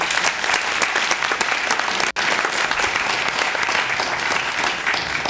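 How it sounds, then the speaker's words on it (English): A crowd at a December 2006 oath of office ceremony applauds Supervisor Liz Niss, dense steady clapping that fills the room, broken once by a brief gap before carrying on. "A round of applause, please."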